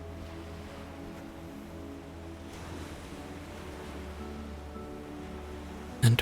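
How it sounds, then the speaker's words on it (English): Sea waves wash in a soft, continuous surge under a faint low steady hum, calm and even until a brief knock near the end. "listening to the sound of the sea. The constant back and forth of the waves"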